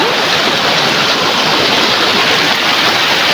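Loud, steady rush of river water flowing without pause, a dense broadband roar close by, with no voices.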